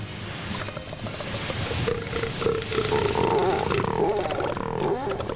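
Elephant seal bulls roar on a beach on Macquarie Island, a loud, drawn-out guttural bellowing that swells and builds over several seconds against a rough, noisy wind-and-surf background.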